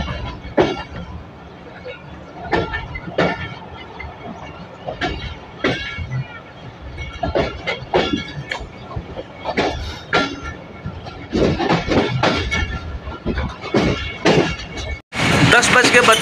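A Narowal passenger train runs along the rails in steady motion, with rhythmic clatter and rumble throughout and people talking over it near the end.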